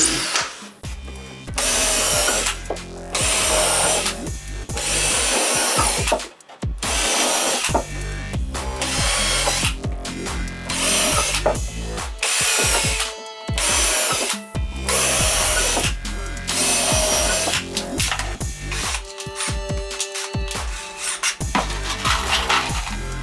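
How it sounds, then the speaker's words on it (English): A power drill bores a pilot hole into wood in repeated bursts, whirring loudly up close with short pauses between each run. "drill the pilot hole first"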